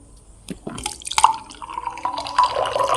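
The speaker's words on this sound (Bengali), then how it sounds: "দেখতে পাচ্ছ জল পড়তে আছে কোনো মেশিন নেই কোনো মোটর নেই কিছু নেই জল পড়তে এটাই হচ্ছে সাইফন ক্রিয়া" Water falls from a siphon tube in a simple demonstration with no pump or motor, giving a few scattered drips that build into a light, steady trickle and splash.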